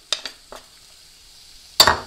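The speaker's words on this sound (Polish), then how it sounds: "już zaczyna nam ładnie skwierczeć" Brief crackling bursts of onion frying in a pan, a few short sizzles and clinks, then a louder sizzling burst near the end.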